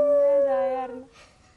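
A voice imitates a wolf howl in a drama club setting: one sustained, wavering howl of about a second that trails off, followed by a faint breathy tail.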